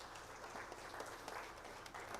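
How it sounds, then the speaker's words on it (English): Audience applause at a silver jubilee celebration ceremony, a steady faint wash of clapping from a crowd held at an even level throughout. "I'll request everyone to have a big round of applause for the sir."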